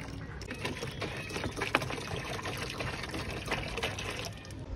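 Sun-warmed bathing water pours in a steady, splashing stream, close by and continuous, with no one speaking.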